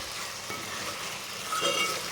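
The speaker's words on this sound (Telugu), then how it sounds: "చికెన్ అంతా ఫ్రై అవుతుంది." Gongura chicken frying in oil in a pan while being stirred, a steady close sizzle with a scrape of the spoon midway and a louder stirring swirl near the end.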